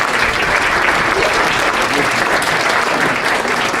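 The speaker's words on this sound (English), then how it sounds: "Let's give all of our presenters a round of applause." Loud, close applause from an audience for a group of presenters at a school professional-development session, dense clapping sustained evenly throughout without letting up.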